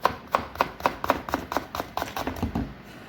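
Kitchen knife chopping ingredients on a board for fried rice and noodles: a steady run of about a dozen crisp, close knocks, evenly paced and slightly quickening toward the end, with no talk.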